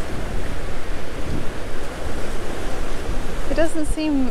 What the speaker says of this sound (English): Crazy, look at the waves.